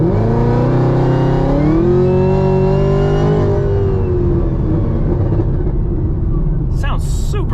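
A cammed, supercharged Camaro ZL1 1LE fitted with an MPI supercharger lid rumbles nearby, its engine revving up around the second mark and holding, with someone talking over it the whole time.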